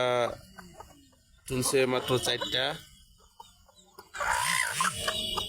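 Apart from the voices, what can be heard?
desi hen clucking with her chicks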